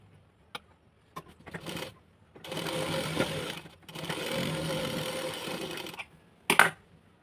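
Sewing machine stitching a folded layer of a plain blouse: two sustained runs of steady motor whirring of about two seconds each, with short stitch bursts and clicks before and after, close and alone.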